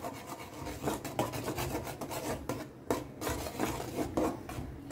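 Jowar flour being stirred into boiling water in a pot, a steady scraping, rubbing sound of spoon against the pot with repeated strokes, close and continuous, no talking.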